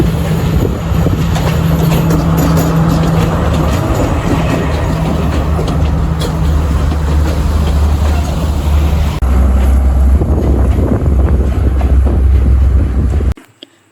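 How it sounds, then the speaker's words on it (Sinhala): Train pulling into Pattipola, the highest railway station in Sri Lanka, near Nuwara Eliya: a loud, close rumble of wagons with rhythmic wheel clatter and a squeal, running steadily before cutting off abruptly at the end. "මගේ ලක් එකටම අපි ඉද්දිම මෙතනට ට්‍රේන් එකක් ආවා"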